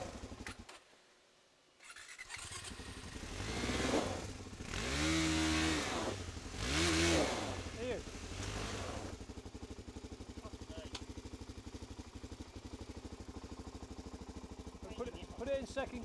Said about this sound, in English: Go on, accelerate a little bit. A bit more. Accelerate and stop.